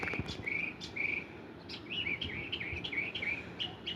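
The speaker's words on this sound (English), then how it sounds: "The birds are talking." Birds chirping outdoors on a calm day, including catbirds, with short repeated tweets coming in quick bursts at moderate distance against a soft background of insects.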